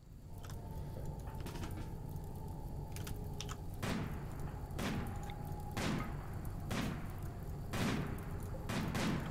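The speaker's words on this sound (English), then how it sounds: "We're just shooting the wall, aren't we?" Gunfire striking a wall in the colony game RimWorld, a string of about eight sharp, fairly loud impacts spaced roughly a second apart over a low, steady background hum, with no talking.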